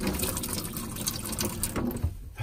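Water running steadily from a hot and cold tap in the shower of a Peugeot Autosleeper Harmony motorhome, a faint continuous hiss and splash heard close by and alone.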